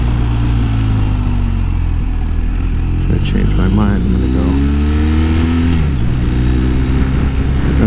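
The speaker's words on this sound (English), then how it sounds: "I'm going to go through the gears, getting on the throttle a little bit more, and show you how the quick shifter smooths out" A BMW R 1250 RS motorcycle engine runs close and loud, its pitch climbing and dropping in repeated sweeps as it accelerates through the gears with a quick shifter, while someone talks over the steady engine roar.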